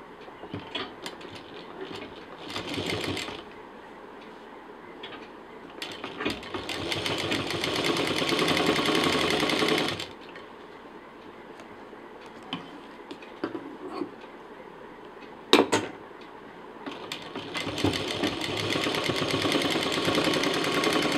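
A sewing machine stitches piping onto the flap of a carry-on sling bag, running in several bursts of steady whirring with brief pauses and small mechanical clicks between runs.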